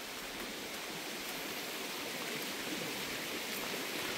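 Floodwater during Typhoon Kristine rushes and swirls in a continuous broadband hiss, like a fast stream, steady and fairly soft with no voices.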